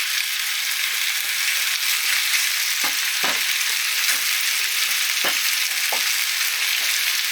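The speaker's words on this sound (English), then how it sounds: "I'm just stirring and frying as that cooks." Steady, loud sizzling of chicken pieces stir-frying in a hot pan, with occasional scraping clicks of a utensil stirring the pieces around.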